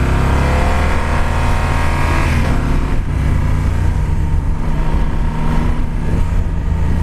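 Yamaha Super Tenere motorcycle engine revving hard and pulling away, a loud continuous close engine roar with a rising and falling pitch as the rider shifts and rides off.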